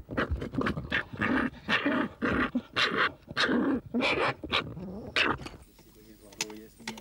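Hunting dogs at a fox hunt giving rapid, closely spaced barks and yelps, loud and near, in a continuous excited run that fades at the end.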